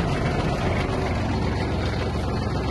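A Kubota GL-260 mini tractor runs with its driveshaft and mower blades engaged, giving a steady, close, even mechanical drone with low rumble that holds without pause.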